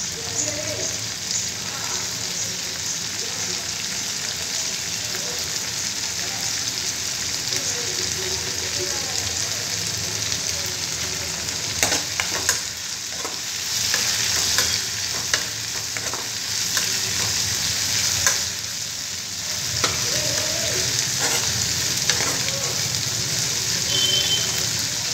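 Bottle gourd pieces fry in hot oil in a pan, giving a steady broadband sizzle throughout, with a few louder bursts of stirring and scraping midway.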